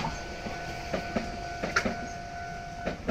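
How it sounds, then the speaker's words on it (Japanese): A Kotoden Nagao Line train runs along the Takamatsu Castle moat, with soft rhythmic wheel clicks and a faint steady hum heard at moderate distance, quiet and without talking. "はい、お堀端を走ります。 長尾線ですね。"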